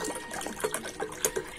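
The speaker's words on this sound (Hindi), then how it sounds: "ग्लासेस में पानी भरना शुरू कर दिया है" Water is poured from a bottle into glasses, a soft, faint trickle with a few small splashes and bubbly plops near the end, close by and quiet with no talking.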